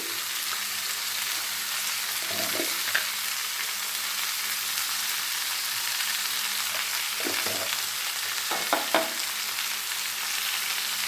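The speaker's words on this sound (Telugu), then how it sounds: "సాల్ట్ ఇప్పుడు మొత్తం బాగా కలిపేసి మూత పెట్టాను" Drumsticks mixed with turmeric and salt in a pot give a faint, steady low sizzle, with a few brief scraping stirs of a spoon around three moments, close and quiet, no talk.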